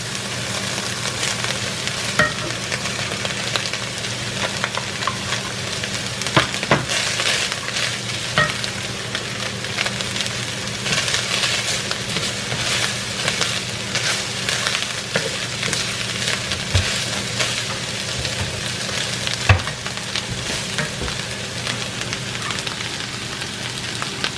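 Onions frying in a pan for sambusa filling, a steady close sizzle with crackling bursts and occasional stirring scrapes throughout.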